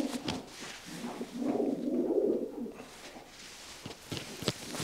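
Racing pigeon, a late-moulted young hen, cooing in a loft: a soft, low, rolling coo swells through the middle of the clip, with faint rustles and shuffling around it and no talk.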